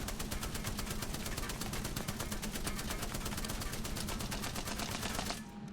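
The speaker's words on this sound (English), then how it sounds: "The Spitfire is just a beast, and I do recommend getting it and using it with burst" The Spitfire light machine gun in Apex Legends fires a long unbroken automatic stream, rapid evenly spaced shots ringing out loud and close for about five seconds before stopping.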